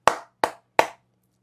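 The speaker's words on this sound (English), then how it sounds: "We'll clap 3 times." Hands clap three times in an even rhythm, each clap sharp, close and loud, with short decays and silence between and after.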